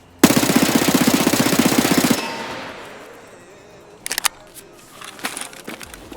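An MP7 submachine gun in Escape From Tarkov fires one loud, rapid sustained burst from a standing position, then a ringing tail fades, followed by a few quieter clicks and handling noises.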